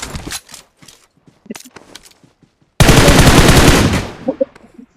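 Sustained burst of automatic gunfire from the battle royale game PUBG, loud and dense for about a second and a half, preceded by scattered softer shots and clatter, then tailing off into faint game noise.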